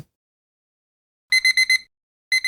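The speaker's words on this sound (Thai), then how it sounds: "เสียงนาฬิกาเตือนบอกเวลา" Alarm clock ringing with a bright electronic beeping, a quick group of four beeps after silence, then two more, loud and close.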